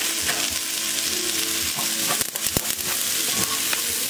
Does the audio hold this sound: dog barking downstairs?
no